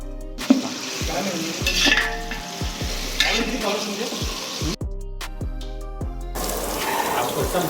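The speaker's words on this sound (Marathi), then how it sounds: "कांदा मस्त की परतून घेऊ आपण" Onions fry in a pan for a home-style chicken curry, with a steady close sizzle, repeated spoon scrapes and taps against the pan, and a brief splash of water partway through.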